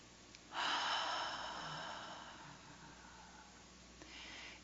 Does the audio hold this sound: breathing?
yes